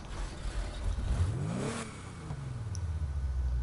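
An upgraded V6 car engine in a video game revs up sharply and then falls back, with its pitch sweeping upward to a peak before settling into a lower rumbling idle, heard close and alone.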